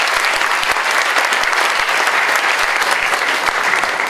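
Loud, dense applause from an audience at a mission conference, continuous and even clapping throughout with no pauses.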